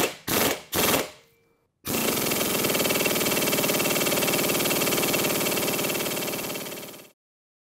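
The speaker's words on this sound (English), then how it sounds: "I'll try the rattle gun, and hopefully it'll come off." An impact wrench rattles at a Ducati cam pulley nut: three short bursts, a pause, then one long sustained hammering run that winds down and stops, close and loud.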